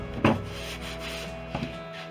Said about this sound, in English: I'm putting tape down to protect the plywood when I do the sanding.